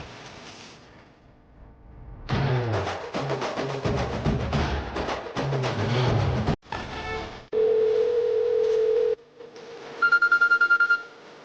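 Phone call tones in a Telugu TV serial as a call goes unanswered: after a stretch of dramatic music, a steady ringback tone sounds for about two seconds, followed by a quick train of rapid electronic beeps.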